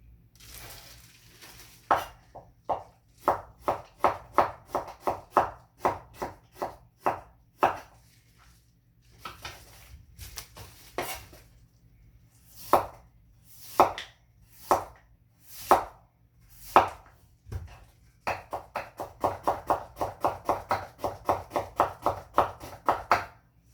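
Radish is sliced into 0.2 cm strips for a natural kimchi sikhae, making close, crisp knife strikes on a board in quick rhythmic runs separated by short pauses.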